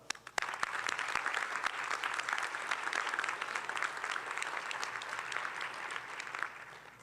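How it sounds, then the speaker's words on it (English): An audience claps through a sustained round of applause at a physician assistant white coat ceremony, steady and moderately distant, building quickly and fading near the end. "Let's give these people a round of applause as well."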